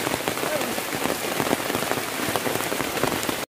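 Heavy rain pours down steadily outdoors near a river in Baler, a dense, loud, even hiss of drops striking surfaces that continues without pause until it cuts off abruptly at the end.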